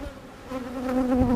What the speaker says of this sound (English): I'm just gonna give the bees a few minutes to calm down, just because they're all over the place.